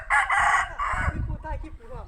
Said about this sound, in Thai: เลี้ยงไก่ชนครับ